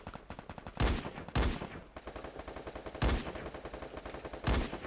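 Rapid automatic gunfire in the battle-royale game Free Fire: close, loud bursts of rattling shots, with a few heavier booming reports cutting through the steady stream of fire.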